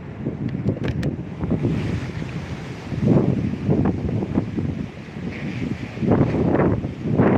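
Gusty wind roars across rough water on a fishing outing, low rumbling bursts swelling and fading in irregular waves with faint wave wash beneath, no voices.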